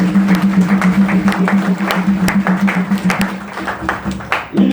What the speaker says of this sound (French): On nous va un bon applaudissement pour ça.